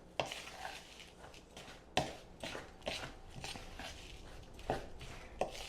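Oats being stirred into apple oatmeal cookie dough in a bowl, a soft series of irregular scraping knocks and thumps, quiet and close, with no voices.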